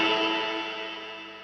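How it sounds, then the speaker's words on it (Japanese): A guitar chord run through a multi-effects unit's plate reverb, one bright strum ringing out with a dense, shimmering metallic tail that fades steadily, with no other sounds. "なんか金属のプレートの板がなってる感じだ"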